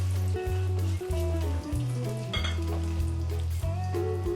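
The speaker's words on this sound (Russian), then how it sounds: "берем фарш и начинаем формировать котлетку. И выкладываем на сковородку." Fish cutlets made from minced fish, sizzling in a frying pan with a soft steady crackle, faint and low beneath prominent background music.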